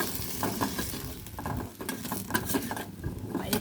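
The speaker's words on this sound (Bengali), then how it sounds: "দিয়ে দিলাম আলুগুলোকেও ভালো করে ফ্রাই করে নেব।" Potatoes sizzle and pop in hot oil while being stirred in a pan, a busy crackling hiss with irregular spatters and scraping throughout, fairly close and moderately loud.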